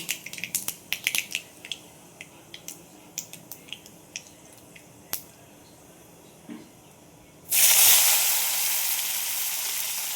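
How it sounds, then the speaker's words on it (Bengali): Black mustard seeds popping in hot mustard oil in a wok, close and crisp: sharp scattered crackles that thin out, then a loud steady sizzle once more food goes into the oil. "দেখো কড়াই আমি সর্ষের তেল দিয়েছি আর দিয়ে দিলাম সর্ষে ফোড়ন"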